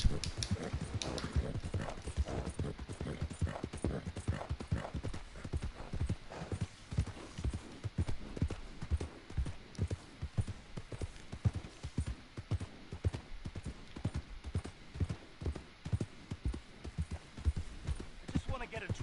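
Horse hooves clip-clop steadily and close in Red Dead Redemption 2, a continuous trotting rhythm running the whole time beneath occasional talk.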